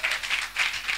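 A church congregation applauds during a Sunday worship service, a steady wash of many hands clapping in rolling waves with no speech over it.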